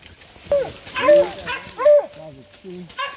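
Two dogs trapped in a dug hole in the ground bark and whimper in close, loud bursts, with rising whiny yelps between the barks.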